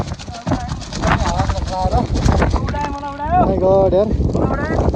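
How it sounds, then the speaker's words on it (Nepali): Strong gusting wind in the Langtang valley buffets the microphone with rough, roaring noise while a trekker talks over it throughout. "अगाडि बढ्दै गर्दाखेरि हावाले हानेर हिँड्नु नसक्ने अवस्था छ"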